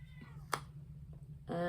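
A house cat meows at a door, a faint, short cry first and then a louder, clearer meow at the end, close by over a steady low background hum.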